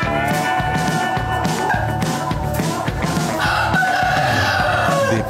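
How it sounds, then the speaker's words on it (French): Featherless chickens in a poultry facility in Rehovot cluck and crow together, with repeated overlapping calls and a rooster crowing close up against a busy, loud background. "Ce sont les bar chicken, des poulets sans plumes qui font la fierté de leurs créateurs."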